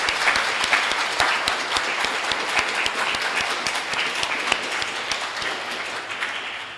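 An audience at a live Transgender Day of Remembrance event with guest speakers applauds, a dense, steady round of clapping heard close and loud throughout, slowly tapering near the end with no talking.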